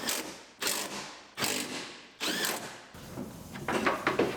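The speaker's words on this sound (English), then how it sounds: "Bolt the regulator in." A hand ratchet drives bolts into a window regulator inside the door of a GMC Yukon being rebuilt after a semi collision, giving several close bursts of rapid clicking separated by short pauses, followed by metallic clinks and rattles.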